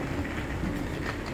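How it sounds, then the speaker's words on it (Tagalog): A train arrives at a UK station, a low steady rumble of rail cars rolling past at moderate distance, continuous and fairly subdued. "Ito na po yung ating train mga kaibigan."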